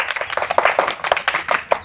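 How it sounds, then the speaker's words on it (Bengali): A small group claps hands before a bottle-flip game at home, giving a quick, uneven run of close, moderately loud claps that lasts under two seconds. "তাহলে হাততালি দাও।"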